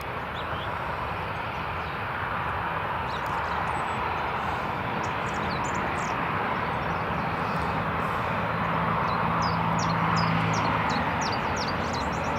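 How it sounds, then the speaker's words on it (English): A Ryanair airliner taxis at Newcastle International Airport, its engines giving a steady, broad roar that holds level throughout with no talk. "And the other Ryanair is just taxiing along there now."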